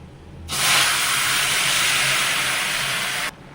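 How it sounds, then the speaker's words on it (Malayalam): Cooked jackfruit drops into a hot pan of oil and toasted chili powder, setting off a sudden loud sizzle that holds as a steady, close hiss for about three seconds before cutting off. "ഇനി നമുക്ക് വേവിച്ച് വെച്ചിരിക്കുന്ന ചക്ക അതിലേക്ക് ഇട്ട് കൊടുക്കാം"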